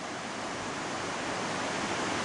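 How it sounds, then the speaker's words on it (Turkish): The flooded Aksu creek, swollen after recent rains, rushes past as a dense, loud, constant roar of churning water, with no voices over it. "son yağmurların ardından Aksu Deresi yine gördüğünüz gibi taştı"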